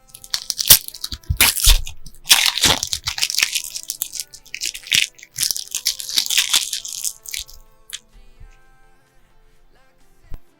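Disney Lorcana card packs are torn open close up, a dense run of crinkly foil rips and crunches in irregular bursts, then quieter rustling and a few sharp crackles.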